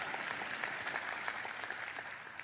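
Steady congregational clapping at a Sunday church service, continuous and fairly even throughout, with no speech over it.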